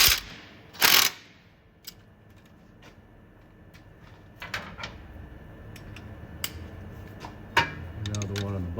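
A ratchet slowly tightens the starter bolts on a Jeep Wrangler JK, giving short bursts of rapid clicking separated by pauses and scattered metallic taps, close and fairly quiet.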